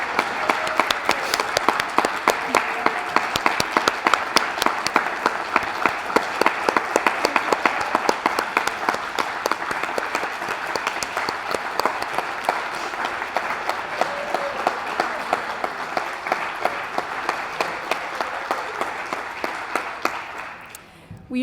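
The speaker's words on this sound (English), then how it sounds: "if we could just get a round of applause for the nominees" Audience at a school student-of-the-year event gives the nominees a sustained round of applause, steady crisp clapping that continues for about twenty seconds before stopping abruptly.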